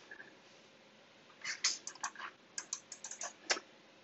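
Keys clatter on a computer keyboard in a quick, irregular run of light clicks, nearby but soft, with a faint hiss between them and no voices.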